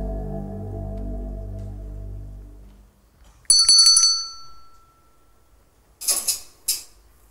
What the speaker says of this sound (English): I ring a bell, and a piece of clockwork responds to the sound of the bell.